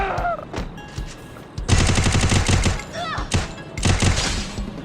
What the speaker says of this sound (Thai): ลองปืนสักหน่อยแล้วกันทุกคน